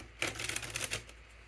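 Brief crisp riffling and clicking of a small oracle card deck being shuffled by hand, close and fairly quiet, lasting about a second.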